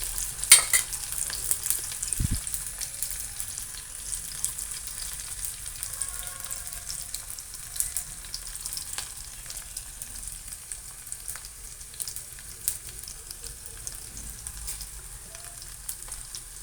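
Green chilli and shallots fry in a pan for fish curry, giving a faint, steady sizzle with small crackles and an occasional stir or clink, no voices.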